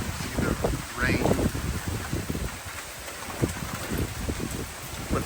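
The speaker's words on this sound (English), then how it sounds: "If you can hear that wind whipping through here or not." Hurricane Milton wind and rain in Orlando, Florida: gusty, roaring wind buffets the microphone with a constant wash of rain, and a voice is heard faintly under it.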